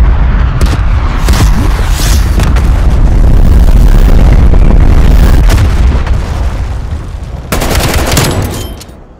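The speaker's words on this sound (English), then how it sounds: "Artillery targeting detected. Net call, incoming artillery." An artillery strike in Call of Duty: Black Ops Cold War pounds nearby, a loud continuous barrage of heavy booms and crackling blasts that persists for several seconds before fading.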